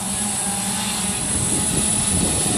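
DJI S900 drone hovering with a 10-pound payload and a 4-pound battery, giving a loud, steady multi-rotor buzz with a sustained whine, heard close throughout in gusty wind.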